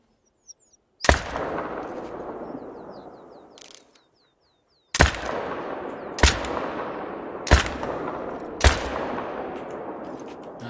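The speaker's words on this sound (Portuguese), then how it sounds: "Acho que eu acertei dois tiros nele" Five sharp rifle shots from a .308 in a hunting video game crack loudly at irregular intervals, each followed by a long rumbling echo that fades before the next.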